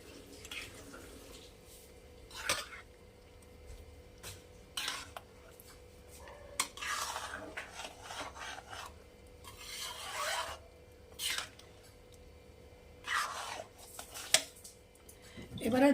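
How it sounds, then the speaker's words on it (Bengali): A spoon gently stirs paneer khichuri in a cooking pot. Soft, intermittent scraping and rubbing strokes come in separate bursts against a quiet background. "দিয়ে হালকা হাতে আমি নাড়াবো।"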